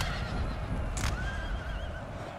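Cavalry horses in the Napoleon Total War video game whinny once, briefly, over a dense, loud rumble of battle noise, with no talk.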